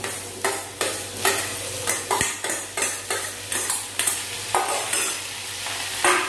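Cooked green peas being stirred into frying onion tomato masala; rhythmic spoon scrapes against the pan at roughly half-second intervals over a steady sizzle, close and loud.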